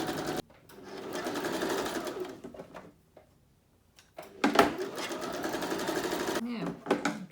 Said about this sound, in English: just a little feathered stitch the whole way down, okay, and all around only the 3 sides